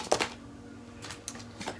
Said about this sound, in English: I'm just going to be shuffling the cards down here.